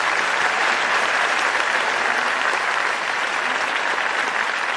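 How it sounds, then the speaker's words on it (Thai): A television studio audience at a Thai country-singing contest gives loud, dense, continuous applause that holds steady from start to finish with no voices over it. "ขอเสียงปรบมือเป็นกำลังใจให้กับคุณอ้ำ"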